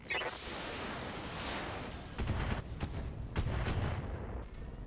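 Mech weapons fire in the BattleTech video game, with a sustained rumbling barrage and several sharp, loud bursts of impacts layered over continuous battle noise.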